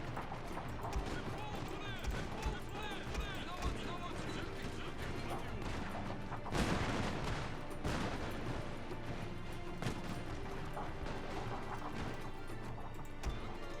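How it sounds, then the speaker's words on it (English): Battle din in the Shogun 2 Total War video game: guns firing amid a constant roar of hooves, clatter and crashes, with a louder volley partway through and someone talking over it. "Get the gun set up and start shooting."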